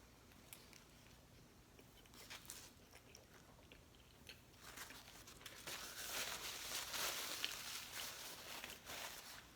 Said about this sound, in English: Let me taste this nice, good sausage, egg, and cheese biscuit from Wendy's.